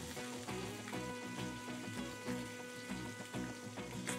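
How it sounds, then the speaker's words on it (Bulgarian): Shallots sizzle steadily as they fry in a pan with only a little fat, a close, continuous crackle with no voices. "Запържваме си шалота, добавяме много малко мазнина още."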